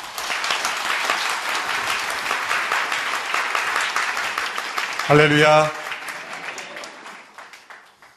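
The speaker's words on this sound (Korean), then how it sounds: "큰 박수로 맞아주시기 바랍니다." A church congregation at a dawn prayer service applauds loudly to welcome the pastor, a sustained wash of clapping. Near the end a single voice calls out a short word, then the applause tapers away.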